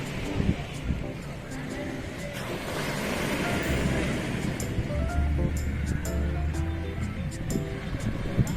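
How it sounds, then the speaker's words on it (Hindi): Ocean surf rolling onto a black-sand beach in Kerala, a steady broad roar with wind buffeting the microphone throughout. "इन लहरों के उछाल और गर्जना को फील करिए"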